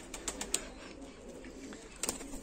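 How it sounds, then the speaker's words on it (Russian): Pigeons coo softly in a dovecote or yard, including a white one and a young bird, with scattered wing flaps and faint movement sounds at a moderate distance. "Тут голубочка беленькая. Там голубь, а вон голубь."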